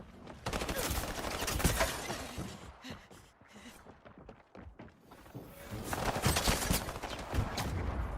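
Shotgun fire in the video game Highguard comes as a dense stretch of loud, close blasts and impacts. A quieter gap with sparse clicks follows, then another heavy burst of gunfire.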